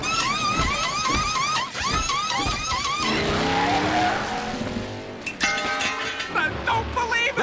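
Cartoon race car roaring out of a pit stop during a race, a loud engine rev and tire squeal building through the middle, amid a busy mix of whistling cartoon effects and brief voices before and after.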